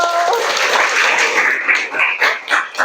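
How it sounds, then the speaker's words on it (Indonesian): A classroom of students claps together, a dense steady wash of applause that carries on for nearly three seconds before breaking into looser scattered claps. "Oke, tepuk tangan dulu untuk Amira."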